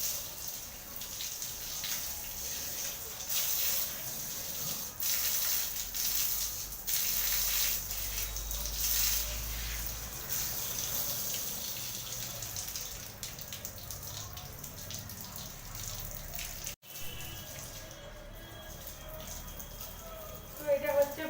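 Water runs from a tap over a tray being rinsed clean, a steady splashing and gushing flow that continues for most of the stretch, with brief pauses and a sharp break near the end; no one speaks.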